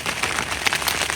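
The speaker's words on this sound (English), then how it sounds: "It's very rainy." Steady dense patter of rain drumming on a tent pitched on a mountaintop during a New Year's camping trip, heard from inside, close and continuous with no talk.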